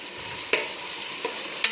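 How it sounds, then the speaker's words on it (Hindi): Onions dropped into hot oil for a cauliflower and potato curry, giving a steady broadband sizzle with a few sharp crackling pops, close and moderately loud, no voices. "अच्छा, ऑयल गर्म होने पे हम लोग इसमें प्याज डालेंगे।"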